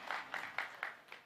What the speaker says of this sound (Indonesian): Ya tepuk tangan sih ya